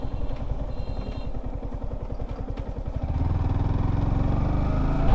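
A motorcycle runs on a congested road, its engine putting out a steady rhythmic thrum that thickens and grows louder after the first few seconds as it revs up. No one speaks.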